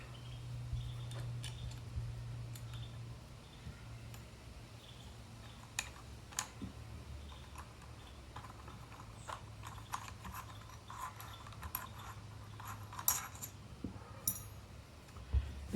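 Small metallic clicks and tool handling as the magazine tube clamp comes off a Mossberg 930 JM Pro Series tactical shotgun, close and quiet, scattered irregular taps over a low steady hum, no talking.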